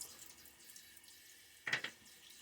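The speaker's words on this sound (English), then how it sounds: "A little water on my face." Water splashed onto the face during a wet shave, a brief wet double splash near the end after faint running-tap hiss, close and quiet.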